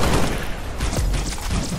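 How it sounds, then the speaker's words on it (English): Rapid assault rifle fire from Halo: Reach, a dense, continuous rattle of close shots that fills the whole short moment. "Try taking these guys with the assault rifles."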